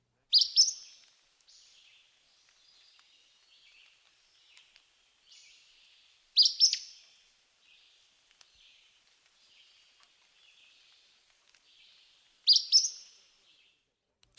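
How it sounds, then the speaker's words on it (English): Song of a flycatcher: a short, high, bright chirping phrase repeated three times at roughly six-second intervals, with faint softer notes between, clear and alone against a silent background. "next the flycatcher"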